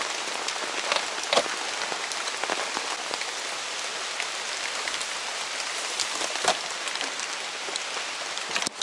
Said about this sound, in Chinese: 我不知道现在下大雨